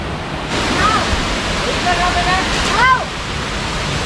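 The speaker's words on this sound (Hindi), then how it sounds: "ये जो आप लोग देख सकते हैं वाटरफॉल" Steady broadband rush of the Godhgol waterfall near Amapani in Kanker, with the falls partly hidden by trees, heard as a constant roar under a few faint bird chirps.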